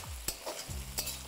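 Curry leaves frying in hot oil with ginger and green chili, a close, steady sizzle with the scrape of a spoon stirring through it, a couple of sharper crackles and no talking.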